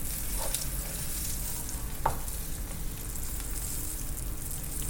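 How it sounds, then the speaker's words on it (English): Salmon skin-side down sizzling in oil in a pan for a Japanese teriyaki dish, a steady close hiss with a brief utensil clink midway. "now finally I'm gonna start to cook the skin side"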